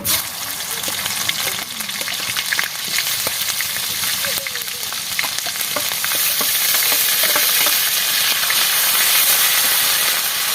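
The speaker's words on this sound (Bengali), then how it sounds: "তেজপাতা দিয়ে দিলাম গরম মশলা লবঙ্গ আর এলাচ তেলের উপর দিয়ে দিলাম পেঁয়াজ দিয়ে দিলাম" Onion fries in hot oil with bay leaf, cloves, cardamom and garam masala for a Bengali potol jhal, making a loud, continuous close sizzle and hiss with crackles and stirring scrapes that grow steadier over time.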